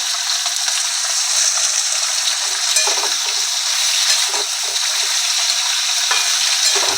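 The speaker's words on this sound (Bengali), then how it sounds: "হালকা একটু ভাজা করবো" Food lightly frying with salt in a kadai on a home stove gives a steady, close, even sizzle that runs without a break and with no talk.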